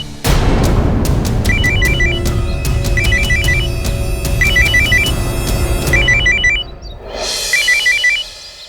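An electronic phone ringtone plays a repeating, chirpy melody in short bursts, loud and close, with a brief pause before the tune starts again.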